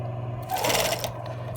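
A sewing machine gives a short, close burst of stitching about half a second long while sewing a medical mask cover, over a steady low motor hum.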